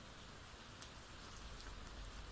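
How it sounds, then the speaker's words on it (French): Rain drums softly and steadily against window glass in a continuous faint hiss of pattering drops, with no voices. "La pluie, désormais plus forte, tambourinait contre les vitres"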